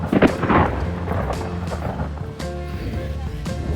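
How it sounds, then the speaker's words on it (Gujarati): Thunder during a storm while out in a jungle on a family picnic: a sharp crack at the start, then a lower rumble mixed with background noise and faint voices. "વીજળીના કડાકા અને ભડાકા ચાલુ થઈ ગયા છે"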